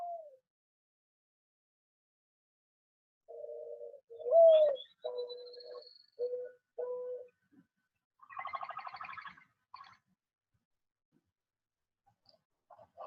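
Mourning dove giving soft, low coos in short repeated phrases, with pauses between them and a higher chirping call later, heard faint and alone.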